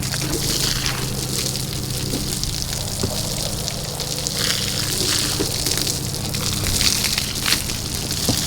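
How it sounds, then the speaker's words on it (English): A hose sprays water over a horse, a loud, continuous rushing gush with splashing texture that keeps going without a break and with no talk over it. "we'll get him hosed off"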